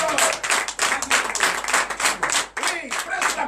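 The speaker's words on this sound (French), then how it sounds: "Donnez de vive acclamation à notre Seigneur." A church congregation at a French-language morning prayer service claps loudly and continuously, with voices acclaiming and shouting over the dense rhythmic applause.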